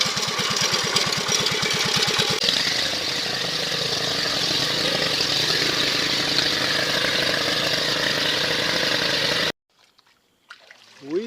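A motor-driven pump empties a water tank used as an irrigation source, running loud and steady for about nine seconds with a rhythmic engine throb at the start, then cutting off abruptly, leaving near silence with a few small noises.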